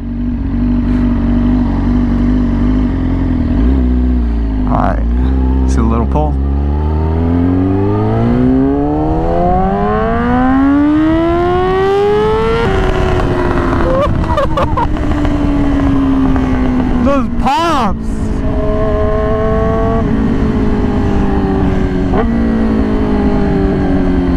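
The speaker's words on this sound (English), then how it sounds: "When I just hold the RPMs, it literally sounds like a pit limiter" A Yamaha R6 motorcycle with a very loud aftermarket exhaust revs hard and close up, climbing in pitch, holding high RPM with a rapid choppy limiter-like stutter, then dropping and revving again in sharp bursts.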